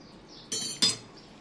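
A spoon clinks twice against a metal pot, two bright, close taps about a third of a second apart over a quiet background.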